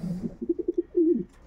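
Young pigeons coo inside a loft compartment, a short series of soft, low rhythmic coos followed by a longer rolling coo, close and fairly quiet with no talking.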